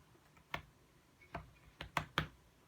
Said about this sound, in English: it's just too difficult to touch type